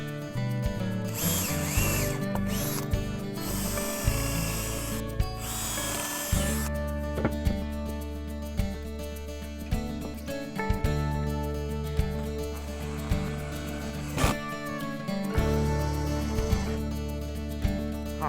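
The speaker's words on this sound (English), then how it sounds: "I'm going to do my pilot holes first." Power drill boring a few short pilot holes into a wooden planter box, repeated whirring bursts close by with brief pauses between, steady and fairly loud, no talk.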